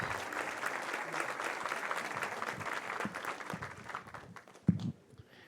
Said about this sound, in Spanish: fuerte aplauso para nuestro Señor